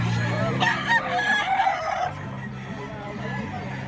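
A rooster crows loudly nearby, a long drawn-out call, followed by softer clucking and background voices.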